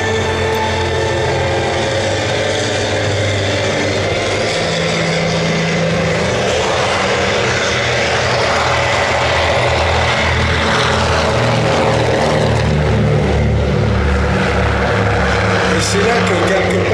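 A Supermarine Spitfire propeller fighter flies at an air show, its engine a loud, sustained drone that shifts gradually in pitch across the pass, with a commentator speaking over the public address beneath it.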